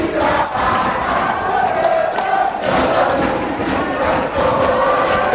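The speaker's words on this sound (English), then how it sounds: "Where the crowd was a bit quiet in the first half, but now has definitely come alive in the second half." Crowd at a club rugby match between Tygerberg RFC and Primrose RFC in the second half, cheering and shouting loudly and steadily, with bursts of yells rising over a constant roar.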